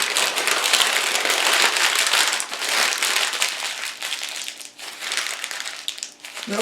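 Plain brown paper grocery bag crumpled tightly by hand, close and loud, with continuous crackling and crinkling bursts that ease briefly and then resume.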